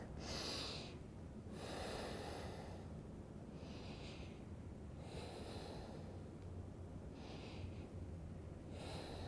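Slow, deep nasal breaths during a yoga pose, about four or five long inhales and exhales in an even rhythm, close and soft in a quiet room, with no talking.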